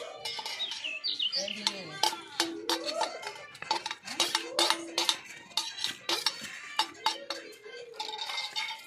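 A spoon stirs onion and curry leaves in a miniature cooking pot, giving a rapid run of small metallic clinks and scrapes close by, with faint bird chirps in the background.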